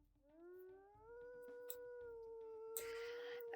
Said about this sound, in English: Oh, these are classic howls,